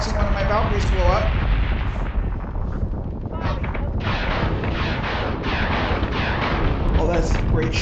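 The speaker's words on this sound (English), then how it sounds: "I'm watching one of my Valkyries blow up." Heavy booming blasts and rumbling explosions fill a Cylon space-battle video game as a Valkyrie ship is destroyed, loud and continuous, with players talking over the din.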